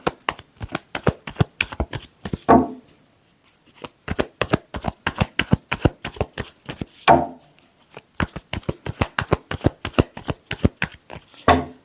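Tarot cards shuffled by hand in rapid, crisp riffling bursts, close and loud, with brief pauses between rounds of shuffling and no talk over it.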